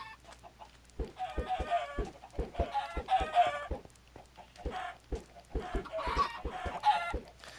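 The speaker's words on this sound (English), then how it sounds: "Get a bunch of chickens, get a bunch of feathers." Minecraft chickens cluck in short repeated bursts, a steady run of clipped game-animal sounds with small gaps between calls, moderately loud and alone.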